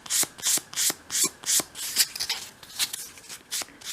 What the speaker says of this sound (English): finish that piece off in your hand with a piece of finer grade sandpaper